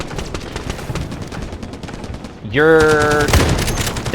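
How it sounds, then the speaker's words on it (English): Rapid gunfire rattles in the shooter video game Delta Force, a fast stream of crisp shots that thickens near the end, under a voice speaking over it. "And I'm getting sniped at."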